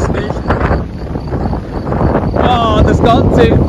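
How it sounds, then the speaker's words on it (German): Strong storm wind on the Transalpina road, blowing loose straw around, roars and gusts steadily against the microphone with rustling texture, while a person speaks over it near the end. "Ah, das ganze Stroh fliegt umher. Das windet so stark."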